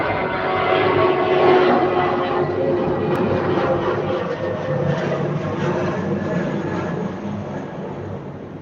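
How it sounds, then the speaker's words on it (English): An airplane passes overhead, a steady broadband roar that stays loud across the span and eases slightly toward the end, with no talk over it. "I'll let this plane pass."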